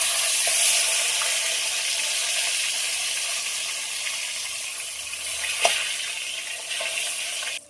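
Continuous sizzling and crackling of catla fish frying in a pan, with a brief clatter partway through as a piece is flipped.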